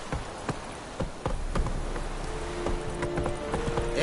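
Roach's hooves clip-clop at a brisk, even pace in Witcher 3, close and distinct over a low ambient game backdrop.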